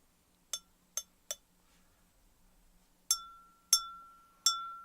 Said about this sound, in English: when I strike the glass with this chopstick, it causes the glass to vibrate